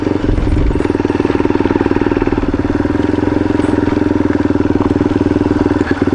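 A dual sport motorcycle rides along a gravel road. The engine throbs loud and close with a steady rapid pulse, and road and wind noise run under it throughout, without talk.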